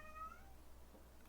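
A domestic cat gives a single short meow, fairly faint and somewhat distant, over a low steady room hum with no talking.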